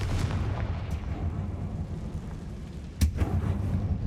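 A Confringo spell blast in Hogwarts Legacy inside a mine, sounding as a steady low rumble with one sharp, booming impact partway through, loud and close, with no one speaking.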